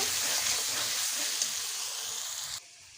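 Ghugni masala with turmeric and Kashmiri chilli powder sautéing in a pan, giving a steady close sizzle and hiss that cuts off abruptly near the end.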